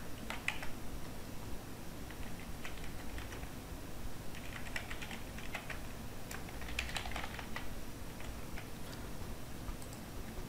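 Booking details for a hotel room are typed on a computer keyboard, a steady run of soft, close key clicks in irregular bursts with brief pauses, over faint background hiss.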